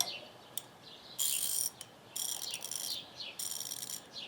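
A ratcheting wrench clicks in close, rapid bursts of fine metallic ticking, several short runs separated by brief pauses, quiet and with no talk, while being tested after lubrication.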